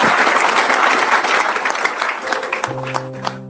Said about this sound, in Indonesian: Ya, tepuk tangan sekali lagi ya.